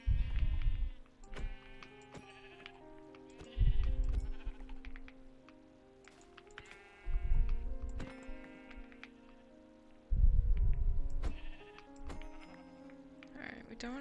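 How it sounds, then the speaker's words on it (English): Minecraft sheep bleat again and again, each loud, wavering cry separated by short pauses, with low thumps and a soft tonal backdrop. "Oh, sheep. Very nice."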